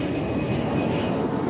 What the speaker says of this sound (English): the Beriev Albatross skips off to Whenuapai Air Base for a quick wash.